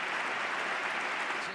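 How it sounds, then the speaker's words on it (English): Politicians applauding themselves, a broad, even wash of clapping from a room full of people, steady and moderately loud from start to finish without talk on top. "And then the politicians applaud themselves for their generosity."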